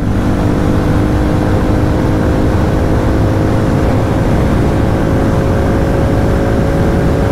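A Hero Mavrick 440 motorcycle engine drones loudly and steadily up close as the rider works through the gears, with a continuous hum and no talk over it.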